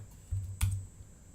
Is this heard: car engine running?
no